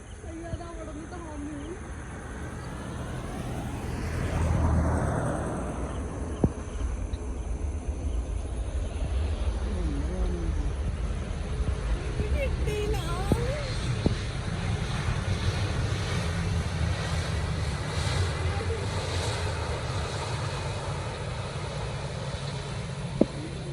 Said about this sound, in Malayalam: അവിടുന്ന് പ്ലെയിൻ വരുന്നുണ്ട്